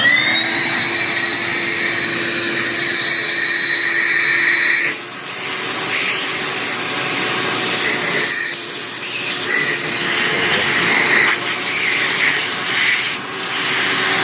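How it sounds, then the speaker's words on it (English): A shop vac runs steadily, sucking up small debris while work is done on the brake line of a GY6 Hoca Dragon scooter: a loud continuous whine with a pitch shift around the middle and scraping, rattling bits drawn through the hose. "In fact, you can just get the shop vac probably"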